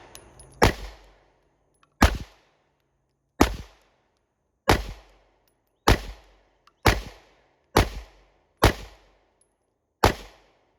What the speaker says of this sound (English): I am shooting the Canik Mete MC9 for a 10-shot warm-up